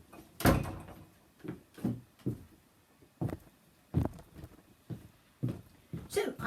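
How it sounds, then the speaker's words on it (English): A door is shut indoors in a craft room, a single loud thud standing out among a series of knocks and clatters, with speech-like sounds around it. "I'm just going to go and shut that door"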